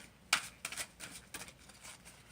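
Thick, glossy oracle cards are shuffled by hand, giving several soft, quick riffling bursts in an uneven rhythm, faint and close, with no voices.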